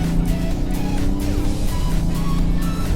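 A 2014 BMW X5 xDrive35d diesel SUV accelerating hard in sport mode, a loud steady engine drone rising through the gears with tire and road noise, heard from inside the cabin.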